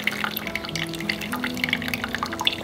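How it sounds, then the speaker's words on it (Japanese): Hot water is poured slowly over coffee grounds for a pour-over brew, a continuous soft trickling and dripping stream heard up close without talk. "ゆっくり注いで同じぐらいの時間になるようにしようと思います"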